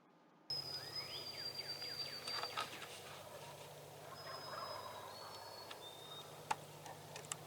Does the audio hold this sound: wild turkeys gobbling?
yes